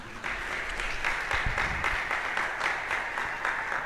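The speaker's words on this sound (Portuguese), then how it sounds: "Vamos aplaudir a palavra de Deus" A church congregation claps together during a Pentecost sermon service, a dense, steady wash of applause that holds evenly throughout, with no pauses or voices.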